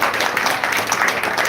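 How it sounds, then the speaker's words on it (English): An audience at a Sunday feast class claps in a brief, dense burst of applause that sounds close and fairly loud, with voices mixed in. "So give one round of applause to all of you."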